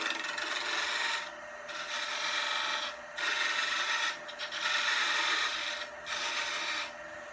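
A skew chisel cuts a bead on wood spinning on a lathe, giving repeated rasping, scraping passes of about a second each separated by short pauses, close and steady.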